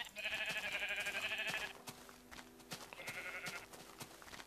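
Sheep in the Minecraft video game bleat twice, a long wavering bleat followed by a shorter one, clear and close with game background sounds between them.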